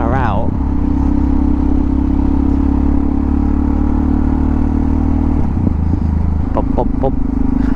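Motorcycle engine, an XT, held at a steady loud drone with revs rising near the end, heard from the rider's position with some clatter.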